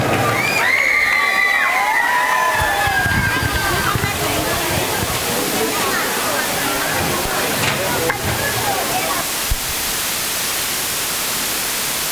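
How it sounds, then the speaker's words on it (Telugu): An audience at a stage dance show cheers and claps to welcome the dancers, a dense, loud roar of crowd noise with shrill whistles rising over it early on and continuing throughout. "సో వాళ్ళందరికీ మీ చప్పట్లతో ఆహ్వానం పలుకుదాం."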